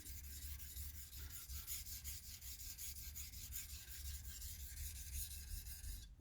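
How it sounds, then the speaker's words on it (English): A blade is drawn back and forth on a 400 grit diamond sharpening stone, giving faint, close, repeated gritty rubbing strokes in a steady rhythm. "this is a diamond 400 stone. 400 grit, it's a diamond stone."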